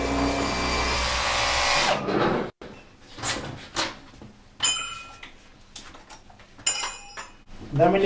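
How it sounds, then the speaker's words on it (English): A power drill bores pilot holes into a wall for a flush metal twin socket back box: a loud steady whirr that stops, followed by scattered knocks, clatters and handling of tools. "Then we need to drill the other two pilot holes for the template."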